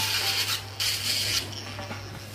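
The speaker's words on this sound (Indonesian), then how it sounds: "Ini proses penghalusan langit akrilik ya. Jadi setelah kita gurinda memakai gurinda yang halus, kemudian kita amplas ya." Sandpaper smooths an acrylic upper denture palate after fine grinding. Close, steady scratchy rubbing strokes run over a constant low electrical hum.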